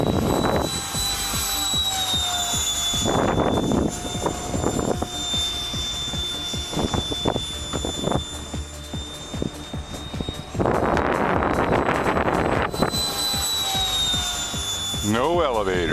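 An RC vectored-thrust jet plane motor runs at high idle with a steady high-pitched whine and a constant roar that swells at times, while a person talks over it throughout.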